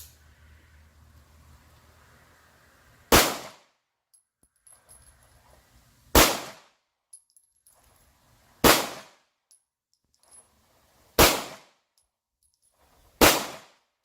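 A CZ-75 pistol with a conventional 18.5-pound recoil spring fires five loud, sharp shots at spaced intervals of roughly two to three seconds, each crack ringing briefly, with quiet between shots.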